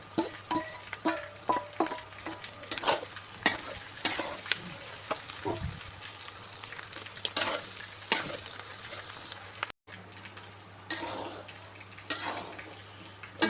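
Goat tripe and thin intestines frying in a pan with a steady, close sizzle, broken by repeated spatula scrapes and stirring knocks throughout.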